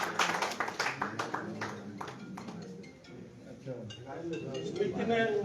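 Crowd applause at the inauguration ceremony of a 48-kilowatt solar plant in Bhadra, held as a memorial event: dense, sustained clapping that is loudest at the start and continues with a steady murmur of voices.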